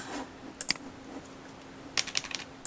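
Faint computer clicks and keyboard taps while editing in Photoshop, a lone tap or two, then a quick cluster of clicks, over a low room hum.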